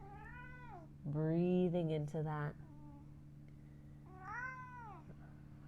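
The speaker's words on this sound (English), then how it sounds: "My cat's half Siamese and he's a talker." A half Siamese cat meows repeatedly during an indoor yoga class, several drawn-out, fairly close meows with a loud burst in the middle, heard over a soft low hum while a voice talks quietly.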